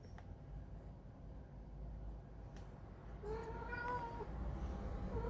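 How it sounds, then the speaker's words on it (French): A cat with a toy mouse in its mouth lets out a few muffled, strained meows near the end, after a quiet stretch of low background hum and faint rustling. "c'est mon chat qui a un jouet dans sa gueule et qui miaule"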